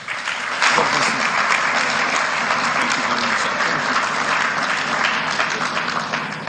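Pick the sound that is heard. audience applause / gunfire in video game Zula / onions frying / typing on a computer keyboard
audience applause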